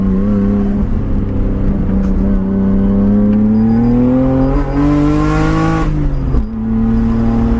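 A Nissan R32 Skyline GTR engine revs loud and close while driving, its pitch climbing steadily toward the high red line before a brief dip and recovery, with no voices over it.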